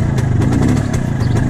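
The two-stroke engine of an MZ ES 150 motorcycle, freshly overhauled, runs steadily at idle with an even, close, loud burbling putter and a light mechanical clatter.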